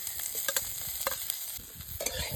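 Onion, garlic, coconut, coriander, ginger and tomato dry-roast over a village wood-fired chulha for a dry chicken masala, with scraping stirs and a light crackling sizzle in close, steady bursts.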